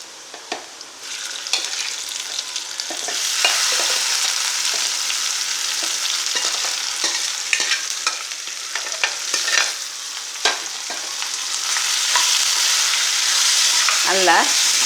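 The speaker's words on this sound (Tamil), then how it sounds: "இந்த ஸ்டேஜில் நம்ம வந்து பீட்ரூட் எடுத்து இதில் கொட்டிடுவோம்." Beetroot tipped into a hot pan of beetroot masala frying steadily with a loud continuous sizzle, broken by scraping stirs and clinks of a spoon throughout.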